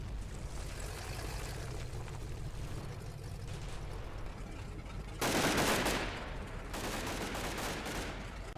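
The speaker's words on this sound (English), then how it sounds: "As I Company and the half-tracks crest the hill, they are engaged by machine gun fire from the town" Machine gun fire in the Combat Mission Fortress Italy war game as troops and half-tracks crest a hill near a town, a dense rattle of continuous gunfire with heavier loud bursts toward the end.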